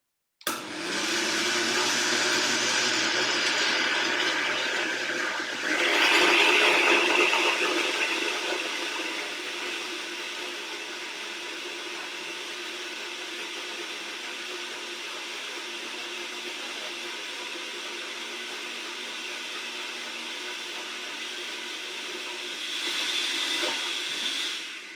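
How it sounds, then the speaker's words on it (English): A blender purees cream of beet soup in a kitchen with a loud, steady whirring roar lasting about 25 seconds, briefly surging near the start and again at the end. "This is the food processor part. Well, the blender."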